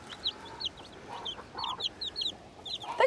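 A mother hen clucks softly among her chicks, with short, quiet, scattered calls and high peeps coming and going close by, ending with a slightly louder call.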